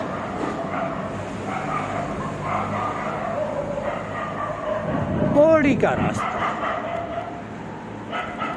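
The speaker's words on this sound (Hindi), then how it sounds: "मुझे प्रतिदिन इन कुत्तों से भी लड़ना होता है, इनकी ललकार से, इनकी ललकार को दुत्कारते हुए आगे बढ़ना होता है।" Street dogs bark and yip in the road leading toward Kishanpole bazar during a bicycle ride, with a brief sharp burst of barking midway. It sits under someone talking and steady street noise.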